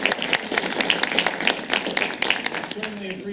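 An audience in a new auditorium at Hampton Academy applauds, a moderately loud spread of many hands clapping steadily, heard close without anyone speaking over it.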